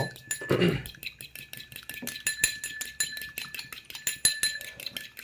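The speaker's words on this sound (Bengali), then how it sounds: "আমি একটা ডিম ফেটে নিব" An egg whisked in a bowl for ramen, a fork or utensil clinking against the sides in a fast, steady run of light taps that are close and fairly quiet, with no talking.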